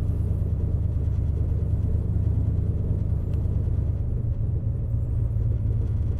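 A fifth-generation engine being tuned holds a steady low idle hum, a close, even rumble that rises slightly toward the end, with no voices.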